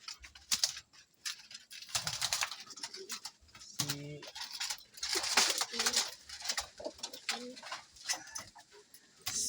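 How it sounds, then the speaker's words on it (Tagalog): A pet pigeon coos softly a few times amid scattered tapping and rustling noises, close but faint, with occasional speech in the background. "Ito ang ibon niya."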